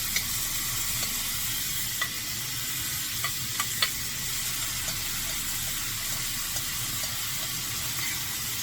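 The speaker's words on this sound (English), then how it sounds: "I'm just scraping the rest of this here." Salmon searing in butter in a hot pan sizzles steadily and evenly, with a few faint scrapes and light taps of a utensil against the pan.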